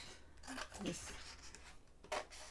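Scissors snip through paper card in a few short, quiet cuts, with crisp close strokes separated by pauses and soft rustling of the card between them.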